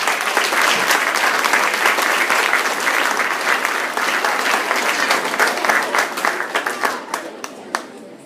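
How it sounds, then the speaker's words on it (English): An audience applauds the beginning band at a school winter concert, a dense, loud stretch of clapping that thins into scattered individual claps and dies away near the end. "let's give them an extra round of applause"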